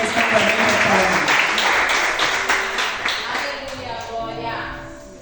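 A church congregation clapping to praise the Lord during a worship service, many hands applauding loudly at first and then fading away, with speech and musical tones mixed in as the clapping dies down.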